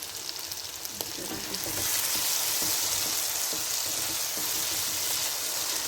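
Okra (bhindi) frying in plenty of oil in a pan over steady high heat, a continuous loud sizzle that grows fuller after a moment, with stirring clatter and no talking.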